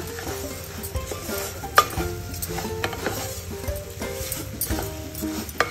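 Semolina and sugar are stirred in a pan, giving a continuous close scraping and rustling with light metallic clinks of spoon against pan.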